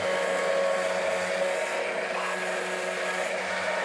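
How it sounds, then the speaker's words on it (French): An electric blender whirs steadily, puréeing a mixture of cream and chopped cep mushrooms into a smooth texture, a constant close motor drone with a faint hum and no voices. "Tandis qu'il le mixe pour obtenir une texture onctueuse"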